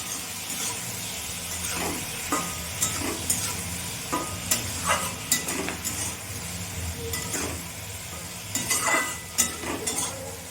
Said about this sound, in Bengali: সিমগুলো প্রায় আমার ভাজা হয়ে গেছে